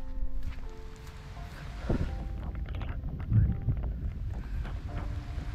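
Wind during a rainstorm at a fishing spot beside a damaged vegetable garden, heard as low, steady buffeting rumble with gusting swells, moderately faint and without speech.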